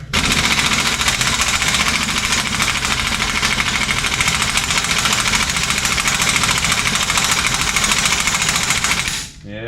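A large impact gun hammers continuously in a shop during a Dodge truck repair, a loud, dense rattling drone lasting several seconds before cutting off abruptly near the end.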